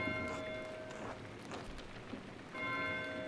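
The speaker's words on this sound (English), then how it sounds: "Why is Matthieu ringing the bell?" Church bell tolling in the medieval game Pentiment, its bright ringing tones sounding at the start and again near the end over a soft rain-like hiss, fairly faint and with no talking.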